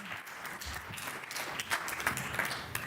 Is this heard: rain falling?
no